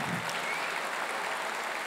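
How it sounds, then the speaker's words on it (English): A standing ovation for Dr. Subramanian Swamy, with continuous, even clapping from a full audience and no break through the short stretch. "A standing ovation."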